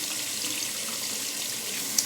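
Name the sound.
water running from a sink tap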